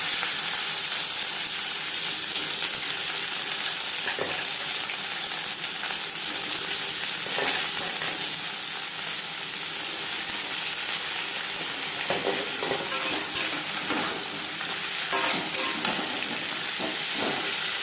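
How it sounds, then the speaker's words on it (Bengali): Bitter gourd with dry red chili and whole cumin fries in hot oil, giving a continuous dense sizzle and hiss with occasional stirring scrapes and pops, no voices. "15-20 সেকেন্ড ভেজে নেওয়ার পর দিয়ে দেবো উচ্ছে"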